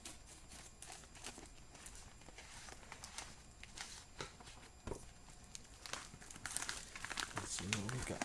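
A mail package is cut and torn open close to the listener, with steady crinkling and tearing of the packaging over quiet talk, and a louder rustle near the end.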